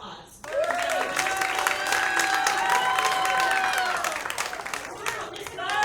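A comedy club audience breaks into applause and cheering, dense clapping with whoops and shouts over it, sustained for several seconds, then thinning as one voice begins to speak.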